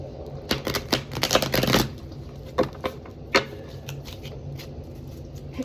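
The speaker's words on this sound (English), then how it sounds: "we're going to do a shuffle" A deck of tarot cards is riffled and shuffled by hand in quick, crisp flurries, then a few scattered single snaps and taps, close and clear with no talking.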